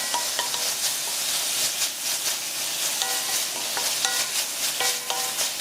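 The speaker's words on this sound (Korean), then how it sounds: "이렇게 해서 불을 켜서 살짝 볶아줄 겁니다." Beef seasoned with soup soy sauce sizzles in a hot pot as it is stir-fried for rice cake soup. A steady, loud frying hiss runs throughout, with light scraping and stirring taps close by and no talking.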